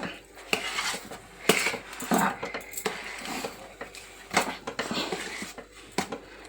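Rice flour batter stirred in a metal pot over low heat: steady scraping and clinking of a spoon against the pot, with rhythmic knocks and sloshing strokes repeating throughout.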